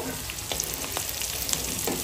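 Onion and capsicum frying in a pan, giving a soft, continuous sizzle with faint crackles and light clicks throughout.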